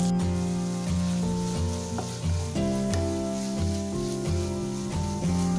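Onion sautéing with salt in a pan for rava masala dosa: a steady, close sizzle with stirring scrapes running throughout, no talking.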